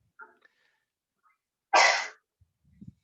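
A single sharp sneeze bursts out after a brief quiet pause, followed by a few soft low murmurs.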